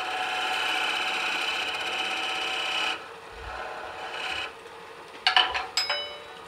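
A hand file rasps back and forth across a steel wrench being sized to fit a 3/4 inch nut, with steady close strokes, then lighter scraping and a couple of sharp metallic clinks at the end.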